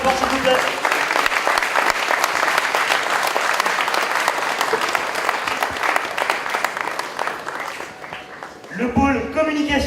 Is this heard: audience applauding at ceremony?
yes